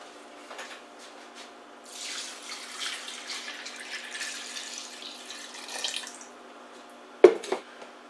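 Tap water running into a jug for grated beets, a soft hissing flow that swells in the middle, then a sharp knock near the end.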